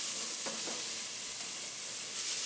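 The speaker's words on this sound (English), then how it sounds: "while I finish cooking the ginger and onion in the bottom of this pan" Ginger and onion frying in the bottom of a pan, giving a steady, even sizzle with a couple of faint stirring scrapes early on.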